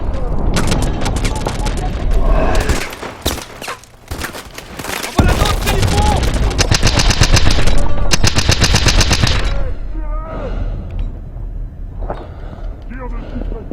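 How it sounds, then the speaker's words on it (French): Suppressive gunfire in Call of Duty: Advanced Warfare rattles in loud rapid bursts with heavy booms between them, a dense and continuous battle din that fades toward the end. "Tire de suppression."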